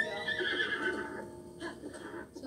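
A horse in the video game Zelda Breath of the Wild gives one clear neigh, a bright whinny that rises and then fades over a couple of seconds, heard alone at moderate level.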